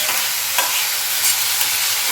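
Food being stirred in a hot pan, a continuous loud sizzle with faint scraping of a spoon, close and steady with no talking.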